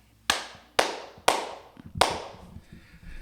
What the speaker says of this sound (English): Let me clap so that I sync all the audios.